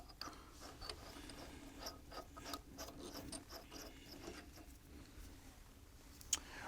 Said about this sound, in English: let's put a drill bit in here real quick